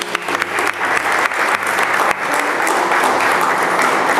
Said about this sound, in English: Please let me give them another round of applause.